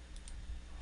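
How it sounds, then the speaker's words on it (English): A single faint computer mouse click, quickly followed by a second soft click, sounds over a quiet hum at a desk. "Click close."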